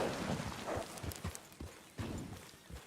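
A horse's hooves clip-clop at a steady walking pace in a treasure-hunting video game, soft and fairly near with no talking over them.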